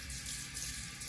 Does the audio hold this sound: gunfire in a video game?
no